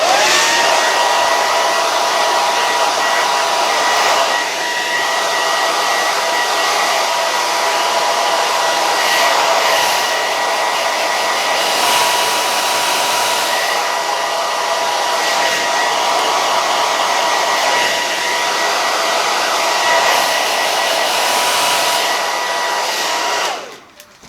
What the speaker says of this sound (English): what we're gonna do now is hit it with the hair dryer.